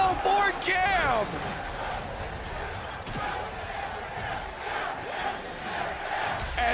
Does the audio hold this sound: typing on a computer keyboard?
no